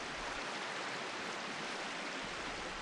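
Gentle stream water running steadily, a soft even rush of flowing water with no breaks, faint and continuous.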